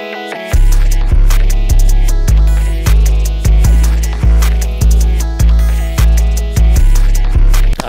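A loud, steady looped beat with heavy bass thumps and chopped, pitched vocal-like stabs stacked in a repeating pattern, no talking.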